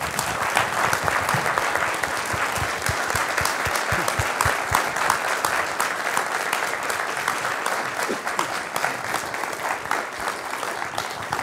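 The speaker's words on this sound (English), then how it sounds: "I would like to ask for a round of applause for all three of our speakers." An audience applauds after a panel of three speakers on housing for Canada's Indigenous populations, a full, sustained round of clapping that holds steady for the whole stretch.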